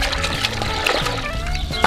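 Freshly pulled garden carrots in orange, yellow and purple being rinsed in water, with close splashing, pouring and trickling sounds in a steady, busy wash.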